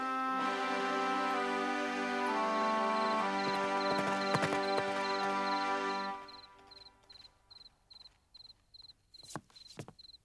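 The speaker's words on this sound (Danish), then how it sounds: "Jeg har aldrig i mit liv set en hest løbe så stærkt." Cartoon horse Black Beauty runs hard, with a bright sustained musical score dominating the first six seconds, then fading to leave evenly paced, faint hoof clip-clops repeating alone.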